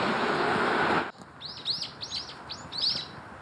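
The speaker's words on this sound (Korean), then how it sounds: "여기 오면은 참새 소리가 저를 유혹을 해요." After a second of loud, rushing noise cuts off, a flock of sparrows outdoors in spring chirps in a series of short, bright tweets, moderately close and clear against a quiet background.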